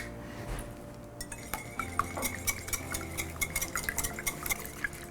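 Eggs are whisked in a bowl for fudge olive oil brownie batter: quiet at first, then a quick, uneven run of light metallic clinks and taps as the whisk strikes the bowl, close by and alone.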